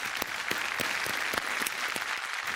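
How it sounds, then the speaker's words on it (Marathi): A theatre audience at a Marathi comedy show applauds loudly and steadily, dense clapping with a few sharper individual claps standing out, no speech over it. "आपण एक जोरदार टाळ्या वाजवूया"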